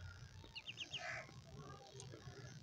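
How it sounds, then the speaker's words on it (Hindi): Several quick, high-pitched duckling peeps in a short burst, fairly faint, with low background murmur and some voices around. "हम आपको बतख के बच्चे दिखा रहे हैं"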